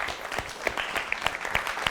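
Studio audience applauds a singer on a Kannada singing reality show, a steady wash of clapping with sharper individual claps standing out, moderately loud and without talk.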